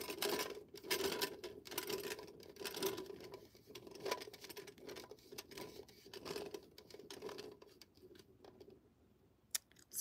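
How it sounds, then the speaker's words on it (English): Beads rolled and clicked by hand while making sewing sticks for plushies, a dense run of small hard clicks and rattles that continues steadily for the whole stretch, close up and fairly quiet, with no talking. "I didn't know you could hear me rolling all these beads around."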